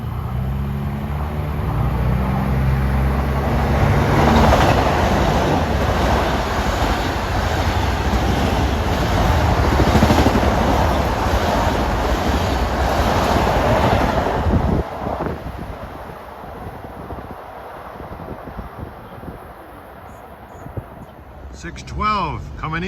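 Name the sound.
LIRR commuter train passing Westbury station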